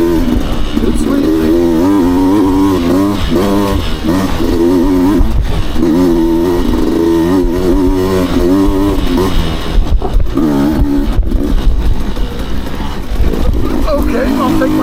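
A Beta 200 RR two-stroke dirt bike engine revs steadily on a trail, held high in the rev range with rising and falling pitch, loud and close throughout, with a rider's voice partly over it.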